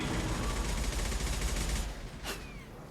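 Gunfire in Mass Effect 2 Legendary Edition: steady rattling shots over dense combat noise that thins out near the end, where one sharp report stands out, with faint background voices.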